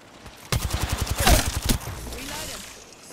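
Rapid automatic gunfire in the battle royale shooter Apex Legends rattles out in a fast burst of about a dozen shots, close and loud, then fades into a softer rumble.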